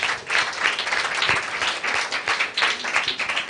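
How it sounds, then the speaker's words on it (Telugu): A church congregation claps loudly together, a full, continuous burst of applause with slightly pulsing intensity, close and unbroken from start to finish. "ఒకసారి గట్టిగా చప్పట్లు కొట్టి దేవుని మహిమపరుద్దాం"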